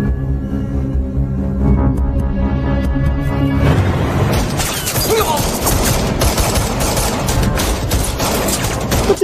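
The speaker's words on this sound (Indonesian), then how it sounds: "Terjadi baku tembak antara polisi dan tim Hao" Dense, loud gunfire from a film shootout between police and an armed gang, with rapid continuous bursts of automatic fire that swell into a sustained barrage of shots and impacts.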